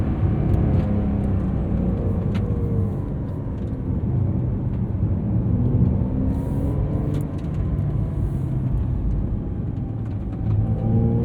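Engine note of a 2023 Porsche 911 Carrera T with a manual gearbox, driven in sport mode on a tight road, a steady close cabin rumble with shifting harmonic tones that rise and fall as the car accelerates.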